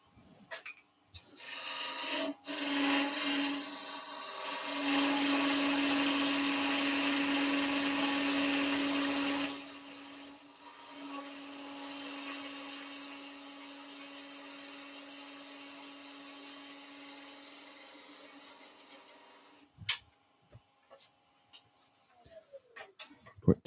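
A wooden pumpkin box spins on a lathe while a turning tool takes a tapering cut, giving a loud, sustained whine that drops to a softer hum before the machine winds down and stops.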